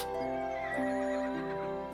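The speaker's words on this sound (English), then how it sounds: "horses whinnying, I guess" Horses on western farmland whinny in long, drawn-out neighs over a steady outdoor background, with faint hoof clip-clop, clear and fairly close.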